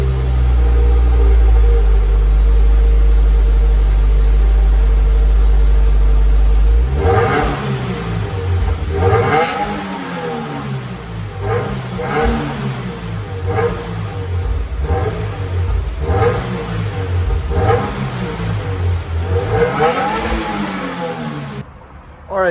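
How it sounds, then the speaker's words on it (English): A 2020 Subaru WRX exhaust settles into a steady low idle for several seconds, then barks through a series of repeated throttle blips, each rev rising and falling in a rhythmic pattern, loud and close with no talking. "So I'll play some exhaust clips for you right now."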